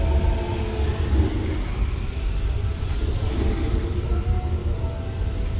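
A Hanshin Namba Line train made up of Kintetsu cars pulls into platform 3, a steady low rumble and rolling hum of wheels and motors filling the station at close range for several seconds.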